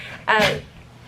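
A single short sneeze bursts out, brief and fairly close, with quiet background before and after.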